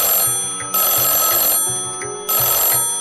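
A telephone rings after a number is dialed from a friend's phone outside a grocery shop, with repeated electronic ring bursts in a regular on-off rhythm, clear and close.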